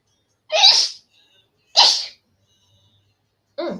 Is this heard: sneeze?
yes